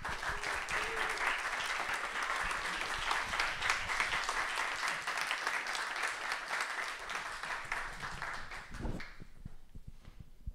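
A large audience applauds steadily to welcome filmmaker Walter Salles at a New York Film Festival live talk, a dense even clapping that fades out near the end.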